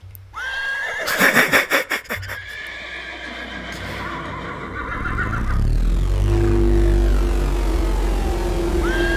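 A horse whinnies in a sharp, wavering burst near the start, then hooves clip-clop along with a low rumble over the rest of the stretch, with a second short neigh rising at the very end.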